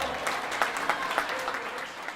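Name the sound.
audience applauding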